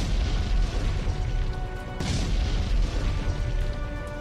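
Heavy booms of artillery shells exploding in Ukraine war footage, a dense continuous rumble with a sharper blast near the middle, loud throughout and with no talk.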